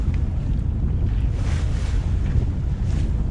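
Wind buffets a sailboat leaving Road Town in the British Virgin Islands against a 10 to 15 knot easterly breeze, a loud continuous rush and microphone roar with water washing beneath, no voices.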